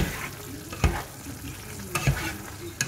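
Green beans, potatoes and chicken sauté in a pan with a steady sizzle, broken by a few distinct scrapes and taps of a spoon as the mixture is stirred.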